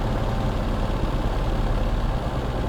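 Twin engines of a P-38 Lightning in Microsoft Flight Simulator run at a steady, loud idle, a continuous low rumble with no breaks across the whole stretch.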